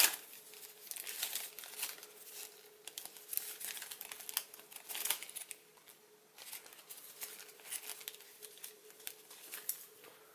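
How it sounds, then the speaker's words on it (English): Origami paper being folded and creased into a cactus model, a continuous close crinkling and rustling with bursts of sharper crackles, fairly quiet and without talk. "folding that the other way has ruined this one"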